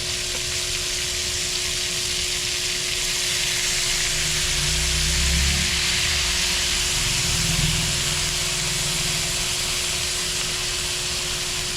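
Soy sauce poured into a hot pan, a steady loud sizzling hiss that swells slightly midway and continues evenly, with no talk heard.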